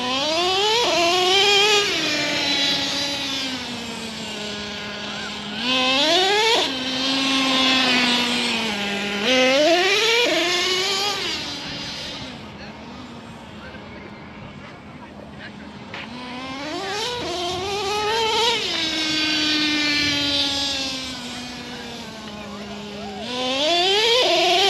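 Traxxas T-Maxx nitro RC truck engine running loud and close, revving up into high buzzing wails and dropping back to idle several times, with a speaking voice underneath.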